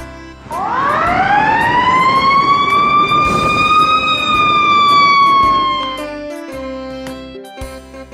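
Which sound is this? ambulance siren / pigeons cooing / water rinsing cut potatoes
ambulance siren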